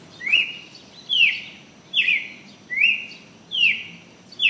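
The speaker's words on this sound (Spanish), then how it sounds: "ver en los alrededores miles de aves acuáticas" A bird calls again and again in a steady rhythm, short rising chirps about once a second, clear and fairly close over a quiet background.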